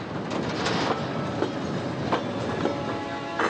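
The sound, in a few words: freight train carrying soybeans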